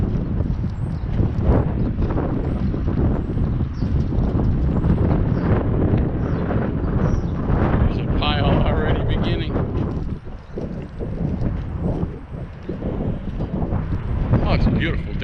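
Breezy, cool day outdoors in the 40s, with steady wind rumbling and buffeting the microphone throughout, dense and loud at the low end with a brief lull near the end.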